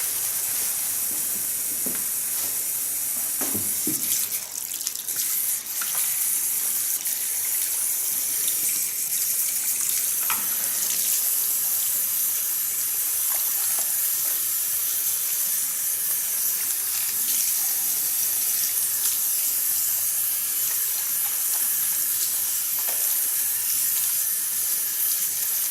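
Tap water runs steadily for the whole stretch as bleach is rinsed out of hair at a salon sink, a continuous hissing splash with occasional louder spatters and no talking.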